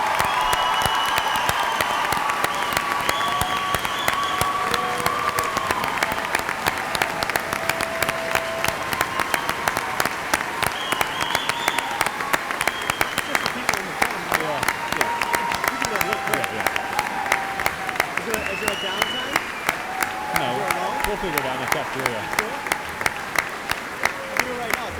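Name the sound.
applause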